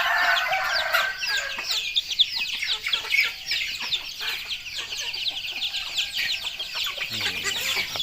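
Hens cluck and squawk busily nearby, with roosters crowing over the flock; a lively farmyard chorus that never lets up, on a Thai chicken farm beside a longan orchard.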